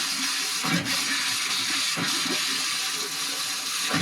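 A newly connected household toilet flushes as water rushes and hisses through the pipes, with air bubbles rattling and knocking in the system; a steady loud gurgling wash with a couple of brief thumps, no talk.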